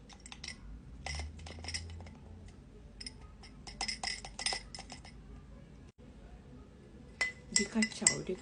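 A spoon stirring a powdered bonshi matcha drink in a glass, giving bursts of quick metallic clinks against the glass, close and clear, with brief pauses between rounds of stirring.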